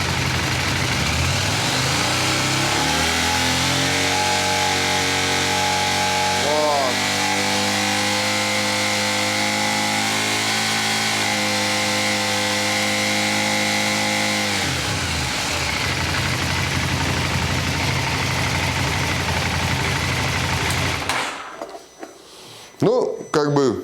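A KTM LC8c motorcycle engine, running on Lukoil oil with a pressure gauge attached, climbs from idle to a sustained 6000 rpm roar, holds loud and steady for several seconds, then drops back and shuts off near the end.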